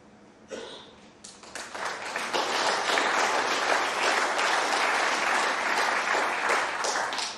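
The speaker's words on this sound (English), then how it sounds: "Generous round of applause, and why not?" A large snooker crowd breaks into sustained applause, steady and full for several seconds after a brief sharper start.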